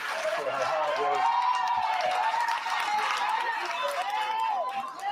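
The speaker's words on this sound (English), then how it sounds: "we want to ask everybody to give a round of applause to Mayor Lightfoot for her hard work" A large audience applauds and cheers for Mayor Lightfoot at a public meeting, a sustained, steady wash of clapping with raised voices and whoops running throughout.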